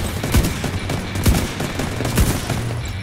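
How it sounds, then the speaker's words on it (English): Three sharp, widely spaced sniper rifle shots crack out in The Division 2, each standing clearly above a steady hum of game ambience. "Let's try a little sniper play. We'll see if this rifle's strong enough."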